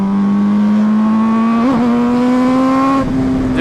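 A rare MV Agusta motorcycle engine drones loudly at steady revs while riding, pitch slowly rising, with a brief wobble partway and a short exhaust crackle near the end.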